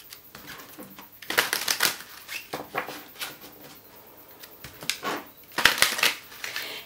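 Tarot cards being shuffled in several quick riffling bursts, crisp papery flutters separated by short pauses, close by with no talking.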